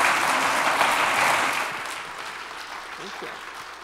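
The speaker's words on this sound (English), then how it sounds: "Give another round of applause." Lecture-hall audience applause on reproductive rights, steady clapping that softens midway and tapers off, with a voice beginning to speak beneath the last scattered claps.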